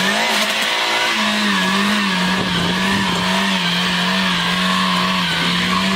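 A car holds a burnout with its rear tires sliding, a loud continuous engine roar blended with sustained tire squeal and scrubbing skid noise, up close and unbroken throughout.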